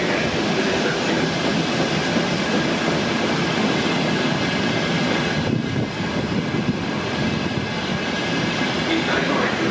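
A Trenitalia regional train at a station stop, with a loud, steady broadband rumble and hiss running the whole time and a brief dip in the middle.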